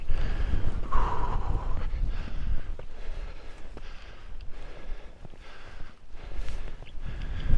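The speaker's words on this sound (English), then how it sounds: "it's real windy" Strong winter wind on a sand dune hike buffets the microphone in a constant low roar with gusty surges and occasional crunchy footsteps throughout.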